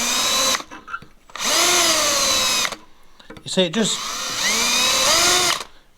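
A power drill bores into the engine block of a Thornycroft Antar Mk3 lorry in three loud whining bursts with short pauses between them, while someone talks close by in the gaps.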